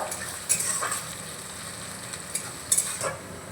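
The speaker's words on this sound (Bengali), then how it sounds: "পেঁয়াজটাকে এখন ভাজা ভাজা করে নেব" Onions fry in a pan with a little salt while making aloo biryani, a soft steady sizzle broken by a few sharp stirring scrapes, with no one talking.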